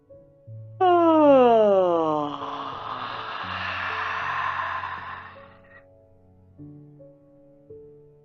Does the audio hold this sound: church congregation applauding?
no